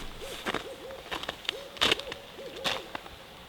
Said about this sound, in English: We had heard the call of a barred owl, and Andrew tried hooting back at them